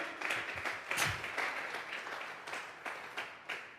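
A church congregation at a Sunday service claps together for God as an offering of applause. The clapping is dense and steady, pulses in waves and carries on throughout with a lively, roomy sound.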